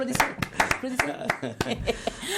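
Scattered hand claps from a television magazine show audience pop through continuous talking and light laughter, the claps irregular and partly buried under the voices.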